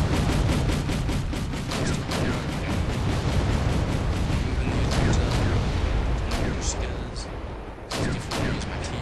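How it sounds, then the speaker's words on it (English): Artillery and tank guns fire in Wargame: European Escalation, a dense, continuous barrage of overlapping booms and sharp cracks that stays loud for the whole stretch, with heavier bursts near the end. "Got some artillery firing on him."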